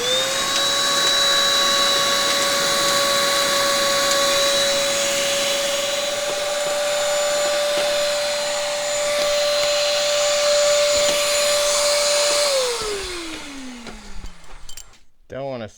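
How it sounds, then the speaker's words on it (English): A vacuum cleaner runs loud and steady with a high whine for about twelve seconds, then winds down to silence while cleaning up during an oil seal job on a 1990 Chevy C/K 3500 one-ton dually pickup. "I've got to vacuum this."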